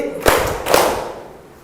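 A classroom of pupils claps twice in unison on a teacher's cue, two sharp close slaps about half a second apart followed by a quiet room.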